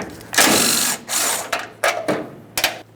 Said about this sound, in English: remove both of these bolts.